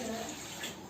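Water is poured out of a pot into a vessel for washing rice in a home kitchen, a short steady splashing stream heard close and alone.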